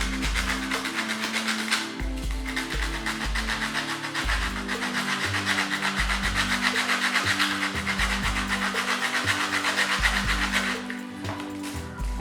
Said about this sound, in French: Vous allez continuer à gratter